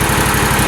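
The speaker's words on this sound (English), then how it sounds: "Very smooth engine." A Toro Z-Master 2000 zero-turn mower engine runs steadily at close range, a loud, smooth, even drone with a fine rapid pulse and no breaks.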